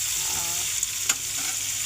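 Tomatoes frying in oil alongside hilsa fish, a dense continuous sizzle up close with a couple of brief louder spits and no talking.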